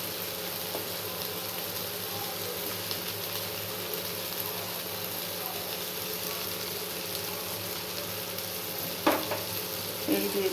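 Potatoes and carrots frying in a pan of oil, a steady close sizzle with occasional stirring clinks and scrapes near the end.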